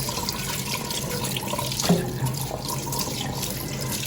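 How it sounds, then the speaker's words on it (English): Tap water runs steadily into a sink while beef liver is rinsed and cleaned by hand, a constant close splashing rush with a brief louder gush midway. "I like to do it under running water"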